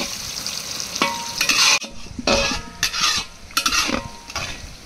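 Chopped local onions go into a hot pan for a chicken dal curry and fry with a loud, close sizzle, broken by repeated bursts of stirring and scraping from a utensil against the pan, with no talking.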